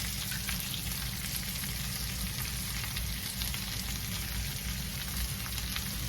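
Vegetables and onions stir-frying in a skillet, a dense, even sizzle and crackle that holds steady from start to finish, close and continuous with no one speaking.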